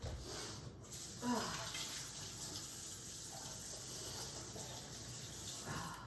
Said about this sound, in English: Hang on, I gotta wash my hands.